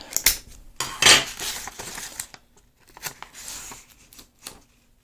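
Tape pulled from a roll and torn while building a diaper cake: a couple of quick, close rasping pulls with short rips and light handling clatter between them, no talk.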